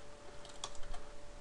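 Light typing on a computer keyboard during a Java programming session, a few soft clicks close by over a faint steady background hum.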